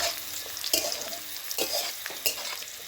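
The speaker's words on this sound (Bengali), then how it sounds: "কুঁদরি আলুটা আপনারা সুন্দর করে ভেজে নেবেন।" Ivy gourd and potato stir-fried in a pan for a kaliya sizzle steadily, with several sharp spatula scrapes and stirs breaking through at irregular intervals; no talking.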